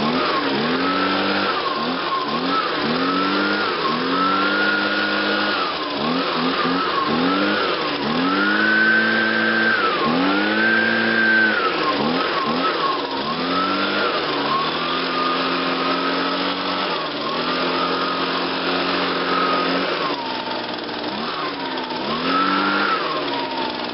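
A small 25.4 cc lawn equipment engine running after starting, revving up and down repeatedly with a buzzy, rising and falling drone, close and loud with no talk.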